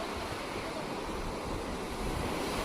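Sea waves wash onto the beach at Malvan in a steady, even rush of surf, fairly faint and unbroken, with no distinct crashes standing out.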